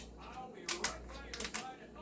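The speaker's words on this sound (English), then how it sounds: "So I'm just cutting into the shell." Kitchen shears crunch through a raw lobster tail shell in a few sharp, close cracking snips, quiet between cuts.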